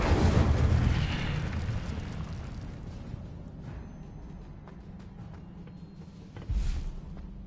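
A fire spell explodes in Hogwarts Legacy video game with a loud low boom at the start that decays into a long crackling rumble, then a second thud lands near the end.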